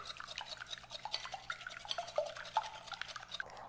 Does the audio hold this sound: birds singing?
no